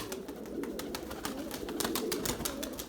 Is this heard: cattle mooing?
no